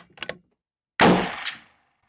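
A .375 Ruger rifle fires a reduced-recoil lead bullet handload of 36 grains. A single loud, sharp report cracks out and trails off in a short decay, after a few faint, brief sounds.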